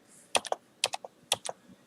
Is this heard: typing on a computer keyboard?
yes